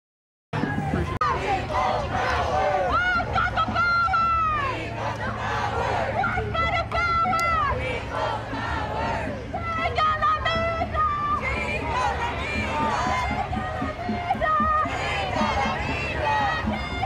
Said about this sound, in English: Okay, that's the crowd.